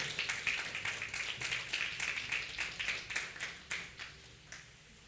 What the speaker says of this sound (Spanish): Alguien dele un aplauso si lo entendió.